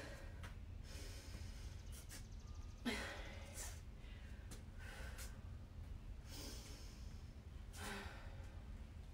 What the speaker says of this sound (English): 10 deep breaths.